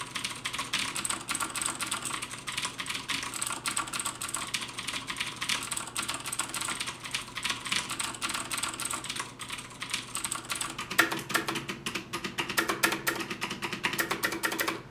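Typing on a Das Keyboard 4 Ultimate with clicky Cherry MX Blue switches, a dense run of sharp key clicks rattling at a fast pace, close and steady, shifting to sparser individual presses near the end.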